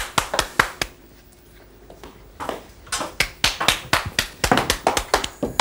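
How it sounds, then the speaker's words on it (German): In a Swiss television studio, a studio audience claps in sharp, separate, fairly loud claps. A quiet gap follows, then a quicker, denser run of claps. "Klatscht doch nicht so laut klatschen, ihr macht mir den Hund verrückt"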